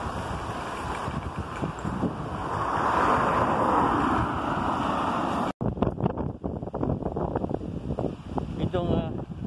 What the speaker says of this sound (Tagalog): Ako'y natatangay ng hangin. Talagang napakalakas.